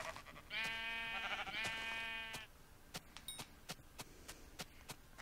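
A sheep in a video game bleats loudly in two drawn-out, wavering cries close by, followed by scattered sharp clicks and small game noises.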